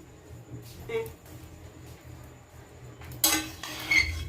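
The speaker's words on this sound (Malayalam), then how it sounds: "ഓക്കെ, അപ്പോൾ ഞാൻ ഇതൊന്ന് ഇളക്കി കൊടുക്കാം നമുക്ക്" Chicken curry stirred in a pot with a special long ladle, giving a few scraping clinks of metal on metal, the loudest toward the end, with speech over it.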